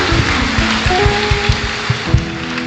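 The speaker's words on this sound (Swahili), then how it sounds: "mpe Bwana makofi mazuri" A church congregation claps together in a steady, fast rhythm during a worship service, with sustained musical tones underneath and no speech.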